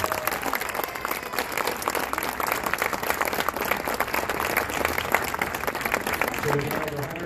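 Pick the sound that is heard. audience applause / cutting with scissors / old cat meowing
audience applause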